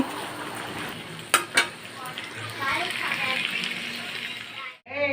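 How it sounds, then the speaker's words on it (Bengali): Chicken meat cooks in a pan with a steady frying hiss, broken by two sharp utensil clinks against the pan before the sizzle continues and briefly cuts out near the end. "দেখো আমি মাংসটা রান্না করে নিচ্ছি"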